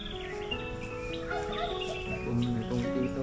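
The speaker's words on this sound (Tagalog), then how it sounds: "Yung maliliit na ibon yun, no? Ibon ng sapa." Small stream birds whistle and chirp in a quick, overlapping series of thin warbling calls, close and moderately loud, with faint background noise.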